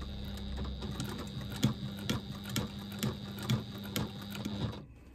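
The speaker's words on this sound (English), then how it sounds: "I'm just going to do a lock stitch at the beginning" Sewing machine running a lock stitch, a steady rapid mechanical clatter with regular needle knocks at an even rhythm, close and fairly quiet, with no speech, stopping abruptly at the end.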